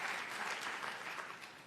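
An audience at a multilateralism forum claps in a short, dense burst of applause that holds steady and fades slightly at the end.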